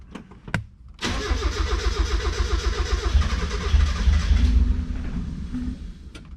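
A Mazda Miata engine with a newly installed Speeduino EFI cranks steadily for several seconds, the starter whirring in a fast rhythmic chug before it cuts off without catching. Close and loud.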